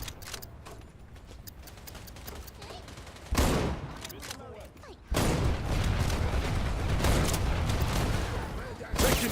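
Gunfire in the video game Wild Assault rattles in sustained automatic bursts, loud and continuous in two long stretches, with voices talking under it.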